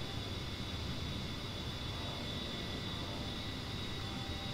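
The engines of an A-10 Warthog jet in the flight simulator DCS give a steady, even cockpit drone with a constant whine and no voices.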